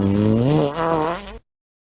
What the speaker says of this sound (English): the next scene may contain gross sounds, which will be a lot of farting